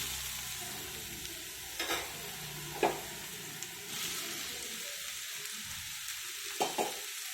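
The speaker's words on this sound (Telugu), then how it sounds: "ఉల్లిపాయ ఫ్రై అయిపోయినాయి. ఇంకా ఉడకబెట్టుకున్న బీన్స్ కూడా వేసేసుకున్నాము." Boiled beans and onions frying in a pan, a soft steady sizzle with a few distinct scrapes and taps of a spoon stirring, fairly quiet and with no talking.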